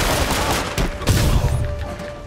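Gunfire in the Spider-Man PS4 video game: a dense burst of rapid shots and booms over a continuous noisy action backdrop, loud and close.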